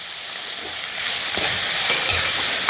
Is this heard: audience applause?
no